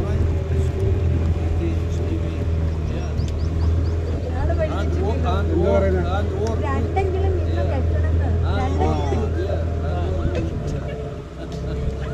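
Motorboat ferry crossing at Wadi al Shab in Oman: a steady low engine drone with water rush throughout, close and constant, while people chatter over it.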